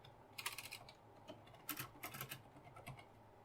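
Quiet typing on a computer keyboard, heard as two short bursts of rapid clicking keystrokes with a pause between them, close and isolated.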